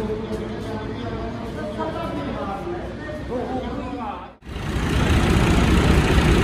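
Fiat 480 tractor engine revved at a dealership sale yard, a low diesel rumble under steady chatter and talk, cutting out briefly then returning louder and rougher.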